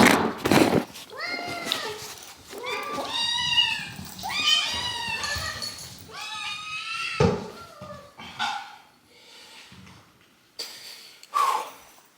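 Several hungry cats meow repeatedly while waiting to be fed indoors, their rising and falling cries close and loud, interspersed with snorts and brief pauses.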